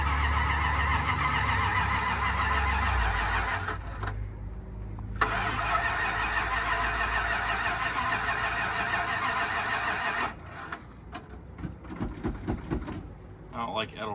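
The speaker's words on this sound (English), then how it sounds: "I ran this out of fuel, that's why it's not starting very easily" An engine that has run out of fuel cranks hard, with a long loud whirring starter stretch, a brief pause, then more cranking before sputtering. Voices are heard alongside.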